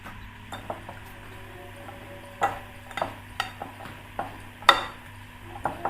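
A spoon clinks against a bowl while potato and chickpea chana chaat is mixed, a series of irregular light taps and scrapes, close and fairly quiet, with no talking.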